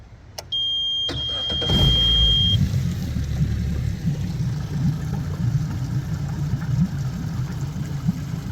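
A Suzuki 75 hp outboard motor in the water cranks and catches after a couple of short beeps, then settles into a steady, quiet, low idle that runs on alone.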